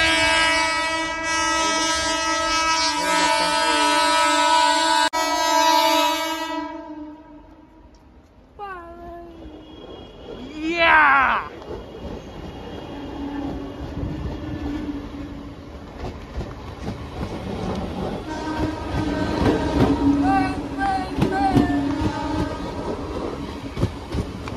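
A train passes on a railway track. It opens with a loud sustained horn blast, then wheels roll and clatter past in a rhythmic clickety-clack that swells again near the end, with faint voices in the background.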